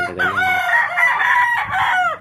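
A rooster crows once, loud and close, a long drawn-out call that rises and then trails off.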